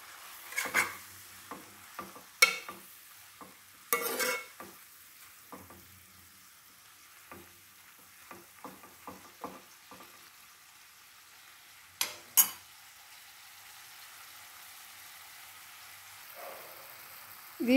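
A spoon stirs turmeric into mint, chilli and tomato chutney frying in a pan, giving scattered scraping taps and soft sizzling bursts, close and irregular, with quiet gaps between strokes.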